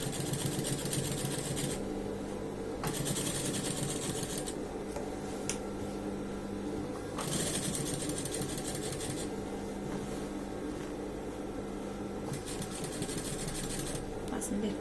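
A sewing machine stitches across the crotch of denim jeans in bursts of rapid mechanical whirring, pausing and restarting several times, with a voice speaking over it.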